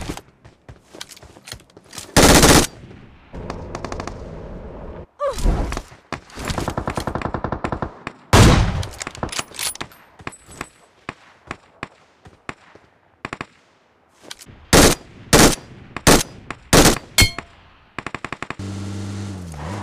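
Gunfire crackles and booms through a mobile battle-royale shooter played on a Sharp Aquos R2 phone, with bursts of rapid automatic fire and single loud sniper shots separated by quiet gaps, close and punchy.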